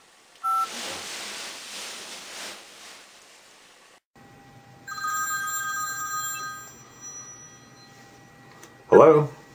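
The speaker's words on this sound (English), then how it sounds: "Let's call Cory." A telephone rings out during a call, its tones repeating steadily for several seconds before a brief burst of sound at the end, heard fairly clearly with little else around it.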